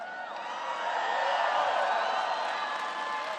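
A large crowd at a political rally in Southaven, Mississippi cheers and roars in a steady wash of noise with no break.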